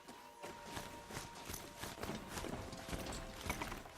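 In Horizon Zero Dawn, a robotic grazer trots with rhythmic hoof-like clip-clop footsteps, faint and at a steady pace with a slight mechanical edge, and no talk over them.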